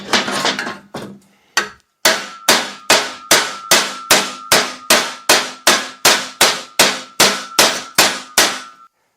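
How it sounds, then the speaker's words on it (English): A steel header tube for a 503 cubic inch big block Ford gasser being dented with a hammer, about eighteen loud ringing metallic clangs struck in an even rhythm, each decaying before the next, after a few irregular opening blows. "So I decided to just go ahead and dent the headers that I had to get around the starter."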